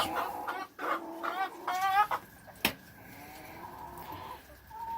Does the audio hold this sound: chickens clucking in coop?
yes